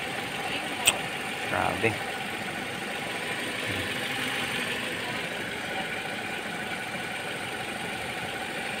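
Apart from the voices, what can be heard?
Toyota Altis engine knocking, damaged cylinder head gasket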